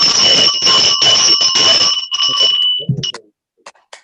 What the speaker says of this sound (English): Then with my sonorous bell, I will ring the meeting closed